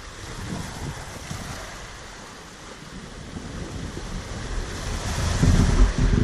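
Sea waves wash onto the shore of a small bay with a soft rushing hiss and wind rumble, the surf swelling louder toward the end.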